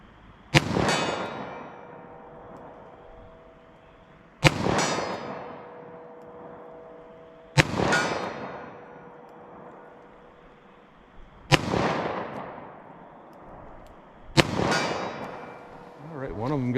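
.38 Special revolver firing Winchester White Box ammunition outdoors at range, five loud sharp shots spaced a few seconds apart, each ringing out with a decaying echo, with faint voice between.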